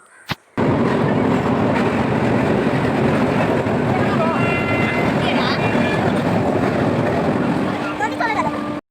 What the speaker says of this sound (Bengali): ফার্স্ট টাইম যেহেতু আমি ট্রেনে জার্নি করে কোথাও যাচ্ছি